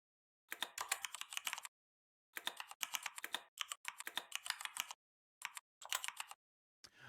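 Clicky mechanical keyboard typing in quick bursts of rapid keystrokes, separated by short pauses, close and crisp with no talking.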